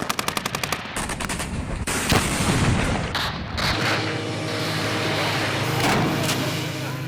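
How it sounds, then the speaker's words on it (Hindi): Heavy gunfire hits Ukrainian military positions in news footage. Rapid machine-gun bursts crack at the start, then sharp shots and a booming rumble roll on beneath a dense, loud wash of fire. "यूक्रेनी सैन्य ठिकानों पर ताबड़तोड़ फायरिंग"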